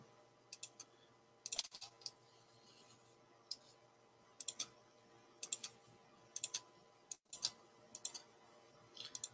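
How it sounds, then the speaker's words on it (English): Computer mouse clicks spaced in small clusters, single and double, crisp and close, while outlining shapes in dental prosthesis design software; quiet background hum, no talk. "Just by single left clicking."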